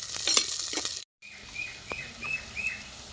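Chopped onions sautéing in a pan for a snail gravy, with a soft steady sizzle and a few light stirring scrapes. There is a short break partway through.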